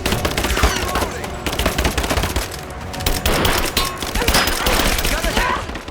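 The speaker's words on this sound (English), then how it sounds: "Give me suppressing fire now!" Rapid automatic gunfire in Rise of the Tomb Raider rattles in dense, loud bursts with short gaps between them, and voices shout faintly over the shooting.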